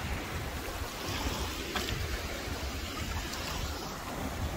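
Atlantic Ocean waves at a long beach in a breeze, a continuous broad wash of surf and wind noise at moderate level, no talk.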